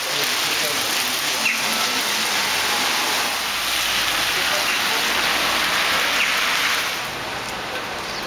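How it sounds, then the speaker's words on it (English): Steady rainfall hisses across surfaces nearby in Edirne, a dense continuous patter that eases slightly near the end. "it's raining as usual."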